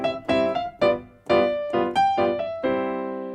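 A short 2-5-1 sequence of struck piano chords, each ringing briefly before the next, ending on a held final chord; close and clear with no voices.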